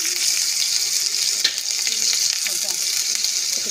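Oil heats and sizzles steadily in a pan while cooking chickpea chilli, a close, continuous bright hiss with faint stirring scrapes underneath.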